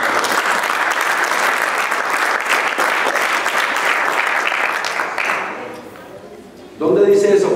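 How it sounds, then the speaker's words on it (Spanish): Dense, steady applause from a church congregation at a Bible study fills most of the stretch, then fades before a voice starts speaking near the end. "Solamente el aplauso del pastor."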